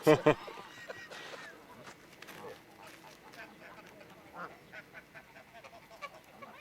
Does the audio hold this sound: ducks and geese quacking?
yes